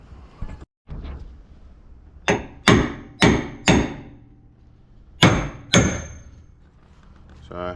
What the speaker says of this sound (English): I'm going to take the hammer to it and see if it's enough.